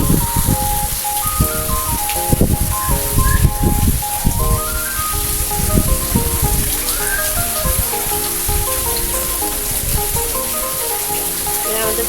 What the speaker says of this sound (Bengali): আমাদের প্রিয়া দেখেন বৃষ্টির ভিতরে বাইরে আসতেছে